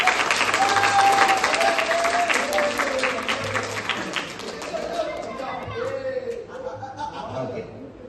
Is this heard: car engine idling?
no